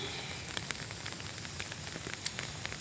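Rain patters steadily with soft crackling drops and a few sharper taps, fairly quiet and close, with no talking.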